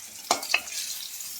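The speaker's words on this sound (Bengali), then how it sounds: "এবার বাকি মাছগুলো দিয়ে দেবো, যে কটা ভাজা বাকি আছে।" Rohu fish pieces frying in a pan of oil, a close, steady sizzle with two sharp spatula scrapes early on, lasting barely a second and a half.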